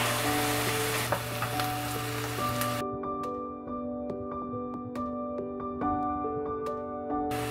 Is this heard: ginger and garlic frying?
yes